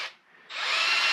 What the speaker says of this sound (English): working a hand drill like this, as working a drill press, milling machine